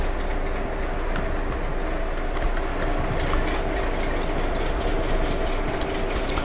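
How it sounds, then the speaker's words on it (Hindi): A simulated Indian Railways freight train hauled by a WDM3A diesel locomotive rolls steadily in the MSTS Open Rails game, with continuous wheel rumble and rhythmic clickety-clack on the rails. "Freight train."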